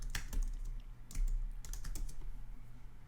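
Rapid keystrokes on a computer keyboard as a website title is typed, with irregular clicky taps running throughout, fairly close and alone with no talk.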